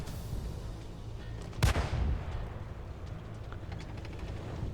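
A Sherman tank's main cannon fires once in a tank video game, a single loud, sharp boom with a short decaying rumble over steady engine and battlefield background noise.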